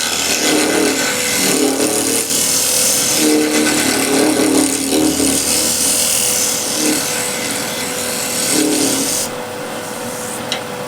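Wooden wheel turning on a wood lathe while a scraper refines it, a steady loud scraping and hissing against the continuous drone of the machine, with brief changes in pressure and no voices.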